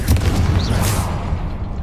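The Confringo fire spell from Hogwarts Legacy bursts with a heavy, booming explosion right at the start. A low rumble follows and fades over the next second or two.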